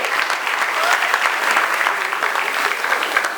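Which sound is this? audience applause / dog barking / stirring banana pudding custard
audience applause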